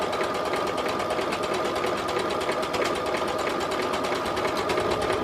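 A sewing machine runs continuously, stitching stretch fabric with a fast, even mechanical whirr and rapid needle chatter, close and steady with no pauses.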